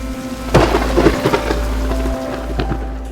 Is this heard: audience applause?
no